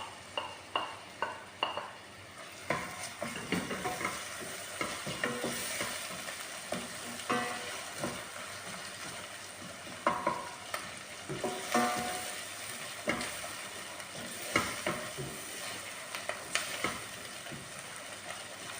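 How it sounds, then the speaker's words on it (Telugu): Onions frying in a pan for chicken curry, with ginger and garlic, a soft steady sizzle broken by repeated close scraping strokes of a spatula stirring the pan. "చూడండి, ఎర్రగడ్డలు ఏగుతున్నాయండి కొంచెము."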